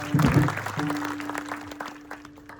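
Audience clapping at a Shivjayanti kirtan, a dense patter of many hands that starts loud and fades over a few seconds, with a sustained tone and a voice underneath.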